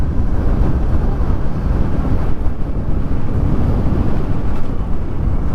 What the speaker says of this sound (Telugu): చల్లటి గాలి వస్తుంది ఇప్పుడు